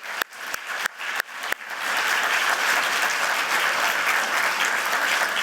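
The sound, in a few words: applause for the eight presenters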